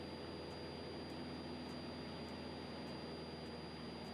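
Cessna 172 RG engine at full throttle in flight, a constant loud droning hum with a steady tonal whine, unbroken and heard from inside the cockpit.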